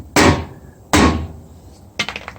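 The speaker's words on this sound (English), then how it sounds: "I just tapped it with a rubber hammer here to get it to go back." A rubber hammer taps a 1965 Mustang rear quarter panel, two loud close dull blows followed by a quicker cluster of lighter taps.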